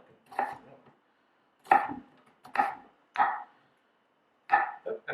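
Knife chopping an onion on a cutting board for Hawaiian pineapple sliders, a handful of sharp, close chops spaced irregularly with brief pauses, no talking.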